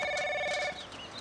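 A telephone bell rings in a steady trill for under a second, then cuts off, leaving a quiet room tone.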